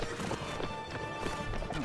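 Horses gallop in the Mount & Blade video game during a siege defence, giving a dense, continuous clatter of hooves with a busy battle din underneath and no speech.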